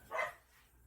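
A dog lets out one short, faint bark, a single quick yip-like sound that fades right away.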